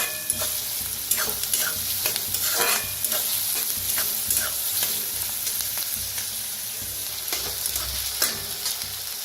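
Finely chopped onion with asafoetida sizzles in a pan while being stirred, a continuous close frying hiss broken by repeated scraping stirs.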